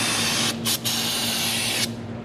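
Spray cleaner hissing onto the transfer case of a 2014 Audi Q7 TDI, a loud continuous spray with two brief gaps early on, close to the mic under a steady hum.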